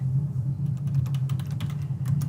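A run of quick keystrokes clatters on a computer keyboard as a search term is typed. The clicks come in an uneven rhythm over a steady low hum.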